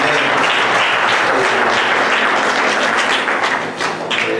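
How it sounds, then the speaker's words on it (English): A church congregation claps its hands in praise during a live service, loud, dense and sustained applause filling the whole stretch with a slight dip near the end. "give God a hand clap of praise."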